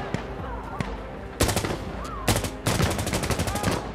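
240 Bravo machine gun firing in the video game Insurgency Sandstorm, with a few isolated shots followed by three loud, close bursts of rapid automatic fire and faint voices underneath.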